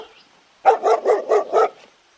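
A dog barks five times in quick, even succession, loud and close, with silence before and after.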